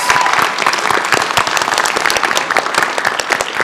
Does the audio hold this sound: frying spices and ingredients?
no